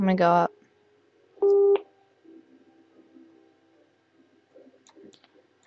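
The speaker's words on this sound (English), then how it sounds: "Sorry about that beeping noise" Two short, loud electronic beeps spaced about a second apart, the first briefer than the second, followed by faint clicks and rustling in a quiet room, with a brief spoken phrase.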